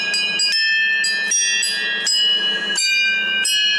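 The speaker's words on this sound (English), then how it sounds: "They got a welcome bell? Several bells. Exactly six bells." Six welcome bells at Kutchan Station in Japan are rung one after another, bright metallic strikes landing roughly every half second and overlapping as each ring lingers, loud and close.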